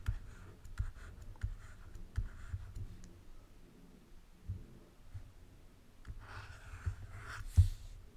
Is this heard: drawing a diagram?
yes